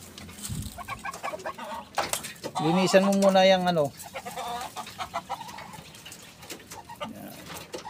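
Chickens cluck and coo while being fed at a backyard farmyard with ducks and chicks nearby, a clear sustained call in the middle with scattered clucks around it, under someone speaking.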